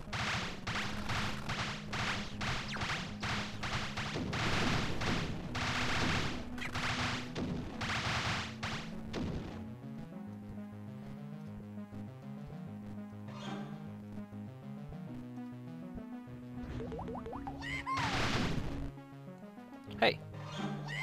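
A string of fat bomb explosions in the Hocus Pocus Doom video game, fast repeated blasts at first and then scattered single bursts over a synth music track, with a later loud blast.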